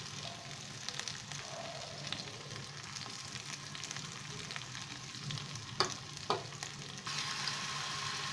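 Spices and turmeric fry in hot oil for a tangra fish curry, giving a soft, steady sizzling hiss with occasional spatter pops and stirring scrapes, faint and close.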